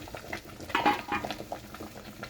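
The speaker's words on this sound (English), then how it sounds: "now when it's boiling, the bowl is jumping, but the water is not in the brain" Water boiling around a bowl set in a pot, cooking pig brain for a Vietnamese dish; close bubbling and rattling with a louder clatter of the bowl jumping midway.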